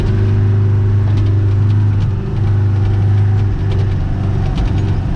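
A vehicle engine revs loudly and close while its wheels spin in mud, a thick continuous drone that swells and dips slightly without any break.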